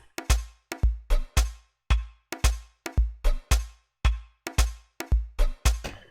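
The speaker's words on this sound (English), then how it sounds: "Okay, this conga sounds like this." A dry conga sample from a Zulu Amapiano sample pack, struck in a punchy, evenly spaced rhythm of about a dozen sharp hits with quick decays and clear silence between them.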